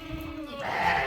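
A goat bleats once, close and clear, a wavering nasal cry that rises in pitch over about a second.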